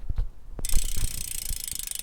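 TUFF carbon gravel bicycle rear hub freewheel ticking as the wheel spins, a close, rapid, steady ratcheting buzz that starts abruptly after a few soft thumps and runs on without talk.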